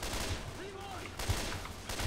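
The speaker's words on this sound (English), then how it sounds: "I'm shooting everybody." Gunfire in the zombie shooter Left 4 Dead 2 comes as a quick burst of shots, fairly quiet and mixed into the game's ambient noise, with no talking over it.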